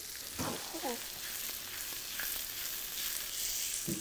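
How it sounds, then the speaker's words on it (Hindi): Onions and vegetables cook lightly on a tawa for a paneer makhani pizza, giving a steady close sizzle that runs throughout, with a couple of brief voice fragments over it. "हल्का सा जो अनियन और वेजिटेबल्स हैं उनमें एक थोड़ा ताप सा आ जाए, वो पकना शुरू हो जाए"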